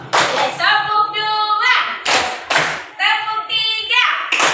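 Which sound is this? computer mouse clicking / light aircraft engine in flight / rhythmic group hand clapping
rhythmic group hand clapping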